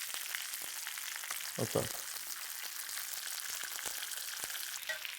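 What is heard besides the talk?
fried onion added to plov in a hot pot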